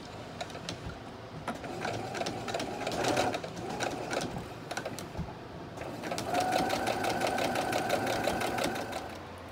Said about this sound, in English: We're ready to sew.